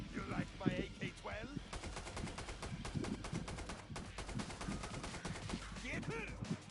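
Rapid automatic AK-12 rifle fire in the video game Killing Floor 2, a dense, loud stream of shots with brief pauses, mixed with other game effects and someone talking over it.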